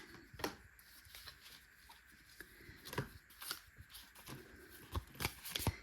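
Playing cards are drawn and handled for a game of blackjack, giving quiet, close rustles, flicks and soft snaps that come in irregular bursts, with no talking.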